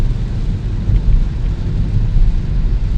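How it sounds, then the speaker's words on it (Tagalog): Heavy rain roars steadily with a deep low rumble beneath it, like distant thunder rolling through the downpour. "nagsimula ito kaninang mga alas 7 ulan na naman"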